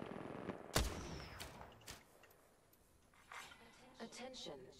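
Gunfire in the online shooter Apex Legends, one loud close burst followed by scattered fainter shots and bursts in the distance, with a voice talking over the action.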